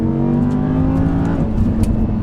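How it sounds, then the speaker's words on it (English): An Audi R8 V10 Plus engine drones loudly, then drops off throttle while downshifting, with a brief burst of crackling pops from the exhaust, close by. "it'll crackle as you drop the gears and you let off the throttle there."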